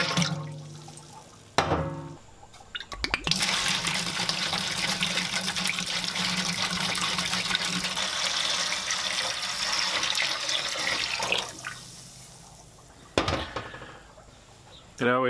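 Grape juice pours steadily into a batch of homemade grape soda for about ten seconds, a continuous liquid splashing with brief clinks of containers before and after.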